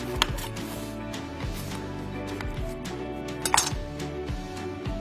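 A knife cuts through double chocolate chip zucchini bread still in its baking pan, giving a few sharp metallic clinks and scrapes against the pan over a steady soft background, with no talking.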